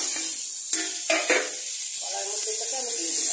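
Paneer sizzles in hot oil in a kadai, a loud continuous hissing fry with a few brief scraping stirs, while a voice talks quietly underneath.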